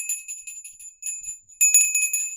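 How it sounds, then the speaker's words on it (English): Small bell rung by hand, bright high tinkling strokes in quick bursts with short pauses, a louder flurry near the end, close and clear with no talk. "All right, let's ring that bell."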